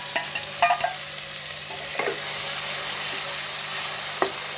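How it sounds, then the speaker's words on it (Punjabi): Chopped garlic and onion sizzle steadily in oil with cumin in a pan, with a few sharp clicks and scrapes of stirring near the start and later. "ਜੀਰਾ ਆਪਣਾ ਤੜਕ ਗਿਆ ਹੁਣ ਵਿੱਚ ਲਸਣ ਤੇ ਪਿਆਜ਼ ਪਾ ਦਾਂਗੇ"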